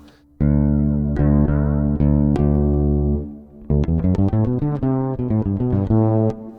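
Bass guitar through a Ghost pedal with cabinet simulation, a few long sustained notes struck and left ringing, then a quicker run of short, plucked notes, loud and close.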